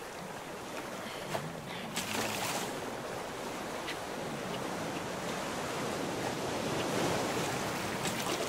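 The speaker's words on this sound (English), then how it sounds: "Waves are getting pretty tall." Steady broadband wash of ocean surf around a raft in the survival video game Raft, continuous and fairly loud, with brief brighter splashes and no talk.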